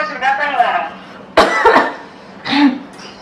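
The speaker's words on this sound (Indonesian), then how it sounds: "belakangan ini beta batuk berdahak terus" Indoor coughing from a young person complaining of a phlegmy cough and chest pain, a few harsh bursts with throat clearing between, close to the mic, mixed with speech sounds.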